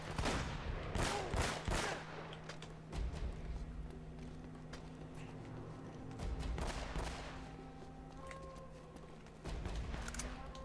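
Gunfire in the video game Uncharted: Drake's Fortune, with bursts of broadband shots clustered near the start and again mid-clip, over a steady low game hum and faint tonal background sounds.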